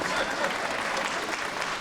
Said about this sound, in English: give me a mercy applause